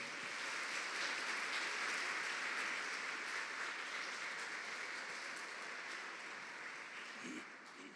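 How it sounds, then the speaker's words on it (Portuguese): A church congregation breaks into sustained applause, a broad even wash of many hands clapping that holds steady for several seconds and slowly tapers toward the end. "Aplausos"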